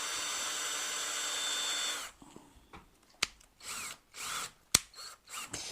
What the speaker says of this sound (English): And you take this little drill,